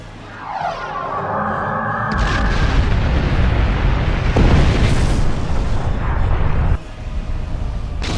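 A heavy weapon-hit explosion in the space combat game Star Trek Online, a booming blast that swells into a long rumbling roar with a sharp burst partway through, loud and dense, with no talk over it.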